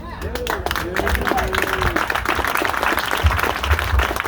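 Audience applause at a ribbon-cutting for a Y reopening: a steady, dense wash of clapping from a crowd, with a voice briefly talking over the start.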